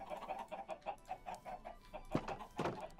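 Chickens in Minecraft clucking in a steady series of short, repeated calls, fairly close, with a couple of louder squawks near the end and no talk over them.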